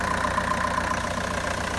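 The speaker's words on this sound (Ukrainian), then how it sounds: "Ось такий чудовий двигунчик, ось такий тут порядочок." An Opel Astra H with a 1.7 diesel engine from 2006 idling, a steady close-up mid-pitched clatter with an even, fast rhythmic knock and no talk.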